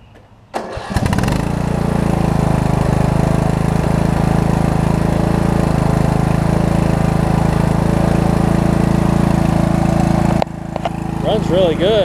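Southern States Craftsman riding lawn mower engine starting and then running steadily at a loud, constant drone close by, cutting off near the end.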